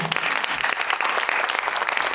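A church seminar audience claps for Yeondong Church, a brisk, dense burst of many hands applauding together at steady loudness from start to finish.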